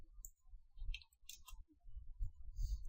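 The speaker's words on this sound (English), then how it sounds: "I'll just type" Faint, close clicking of keys on a computer keyboard, a few light taps in short irregular bursts against a low background hum, with no talking.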